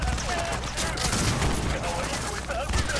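Rapid enemy gunfire from automatic weapons in the shooter game Cyberpunk 2077, a dense continuous barrage of shots under steady game noise, with a player talking over it.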